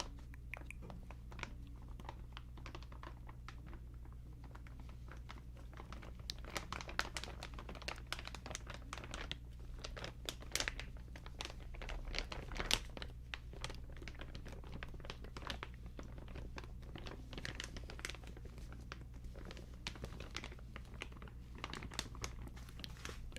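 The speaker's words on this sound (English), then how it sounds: "while I take a pause on the crinkling" Crinkling ASMR sounds made during a live stream, a soft steady stream of crisp rustling and crunching taps, close and fairly quiet over a low constant hum, with no talking.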